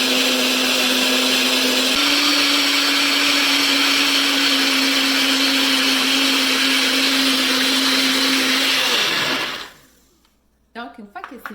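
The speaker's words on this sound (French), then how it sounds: "je vais juste brancher mon mélangeur. Voilà. Là, ça va faire un petit peu de bruit, mais ça ne sera pas très long." A plugged-in kitchen blender mixes a healthy breakfast, a loud steady whirring drone that runs for about nine seconds, then spins down and stops, followed by a few faint clicks and handling noises.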